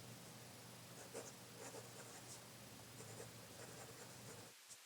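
A medium-nib fountain pen writing on paper, faint soft scratching strokes in short bursts over a quiet hiss, close and alone.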